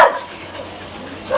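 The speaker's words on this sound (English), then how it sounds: "That's why you've been barking." A dog gives short barks at the start and end, fairly close, with quiet outdoor background between them.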